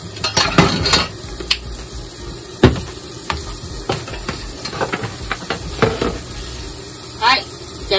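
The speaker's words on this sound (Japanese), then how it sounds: "肉詰め、 焼きます。" Stuffed meat frying in a pan gives a steady soft sizzle, with clinks and scrapes of utensils and cookware breaking in at intervals.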